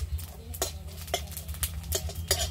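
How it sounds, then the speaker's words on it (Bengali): Coriander, cumin, black pepper and bay leaves are fried in a pan, with a utensil stirring them in a steady rhythm of soft scrapes and clinks close by. "কিছু মশলা ভেজে নেব, ধনে জিরে আর গোলমরিচ, দুটো তেজপাতা"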